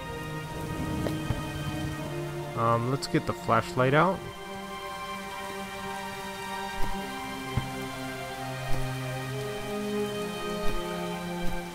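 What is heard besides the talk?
rain in the video game Starbound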